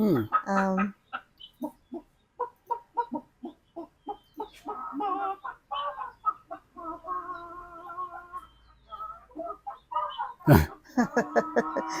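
Amiga video game chickens cluck in rapid, rhythmic bursts with squawks and a sudden louder call near the end, up close and clear.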